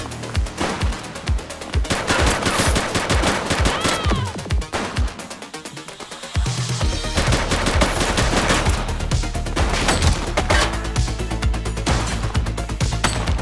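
Loud, sustained gunfire from The Precinct police game, with rapid shots and bursts hammering almost nonstop, a brief lull midway, then more shooting over a low engine-like drone, with occasional shouted voices.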